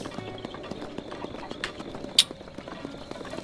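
Horse hooves clip-clop in Zelda: Breath of the Wild, a light rhythmic patter at moderate distance with a sharp high click partway through, over a soft game backdrop.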